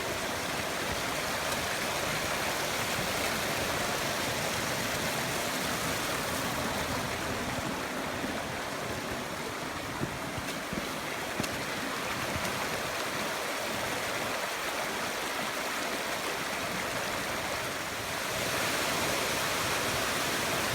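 A mountain waterfall and stream rush without pause, a dense, even roar of flowing water that fills the whole stretch close by and with no voices.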